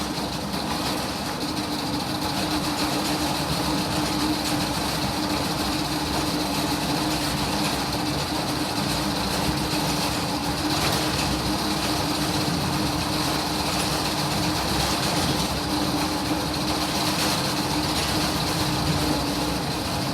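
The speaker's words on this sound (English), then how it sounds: "I'm going to start the screener up." A tractor-powered Econo topsoil screener runs in the rain, giving a steady, loud mechanical roar and hum with a constant engine tone that holds evenly throughout, no voices over it.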